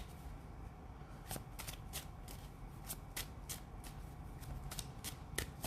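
A deck of tarot cards being shuffled by hand in a quiet room, a long run of crisp, repeated riffling snaps and flutters at close range with no talking.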